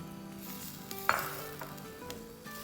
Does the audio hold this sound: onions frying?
yes